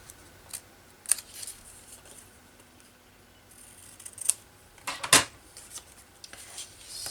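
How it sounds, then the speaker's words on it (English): Scissors snip through paper for a planner collage, a few sharp isolated cuts spaced apart over a quiet room background, close and fairly soft. "I might just cut these so that I can put them the right way"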